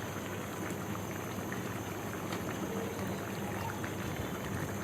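A pot of bottle gourd and hilsa fish head curry simmers steadily with a soft, continuous bubbling hiss, faint and unbroken, with no talking.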